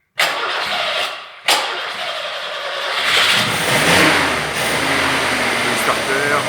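A fully restored Peugeot 404 cabriolet, run without its air filter, is cranked twice in short bursts, then catches and settles into a rough, close idle that swells slightly as it warms.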